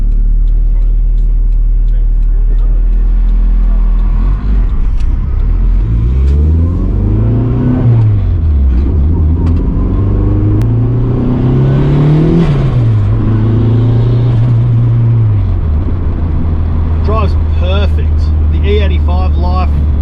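A turbocharged Honda Civic EK running on E85 accelerates, its engine note rising and falling through several revving sweeps. The engine is loud and close, with a deep rumble under it.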